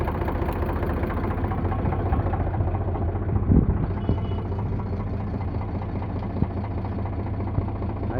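An Eicher 368 tractor engine idles with a steady low rumble and vibration, close and continuous throughout, with a brief knock partway through.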